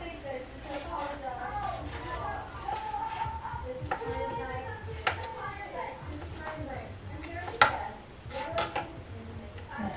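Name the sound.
knife chopping cooked turkey meat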